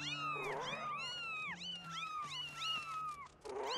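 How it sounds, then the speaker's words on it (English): Several cats meow repeatedly in Zelda: Skyward Sword HD, overlapping rising and falling calls close together over soft steady game music. "There are a couple of cats here."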